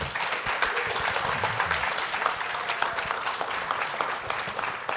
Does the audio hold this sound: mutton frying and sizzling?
no